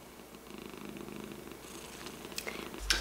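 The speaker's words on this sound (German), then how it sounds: "Er schnurrt die ganze Zeit." A cat purrs steadily at close range, a low, continuous rumble filling the quiet, with a few brief clicks and a soft bump near the end.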